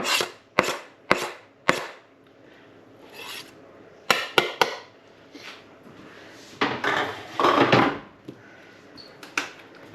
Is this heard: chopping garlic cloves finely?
yes